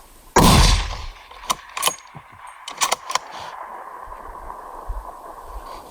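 Rifle shots on a moose hunt in Alaska's Yukon: one loud, close blast followed by several sharper cracks and rattles, then a low, windy background.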